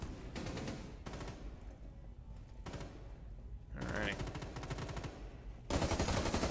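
Automatic gunfire in the tactical shooter Rainbow Six Siege, several rapid bursts of shots separated by short pauses, loud and close, with a longer burst at the end.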